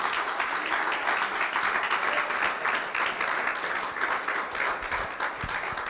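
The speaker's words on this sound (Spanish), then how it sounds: "Dele el aplauso al Señor" Congregation applauding during a church service: many hands clapping in a steady, lively roll with distinct individual claps, sustained at moderate loudness throughout.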